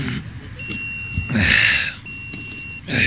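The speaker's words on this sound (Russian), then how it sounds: "Да, сейчас пикает." High electronic beeps sound repeatedly, steady tones at intervals, with some rustling and handling noise in between.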